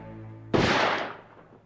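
A single loud gunshot sound effect in a Korean children's folk tale, a sharp blast cutting in after a held tone and fading into a rumbling decay, with no talking over it.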